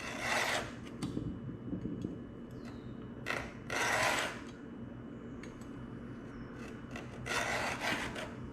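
A file rasps against a saw tooth in several separate sharpening strokes, close and fairly quiet, with short pauses between bursts.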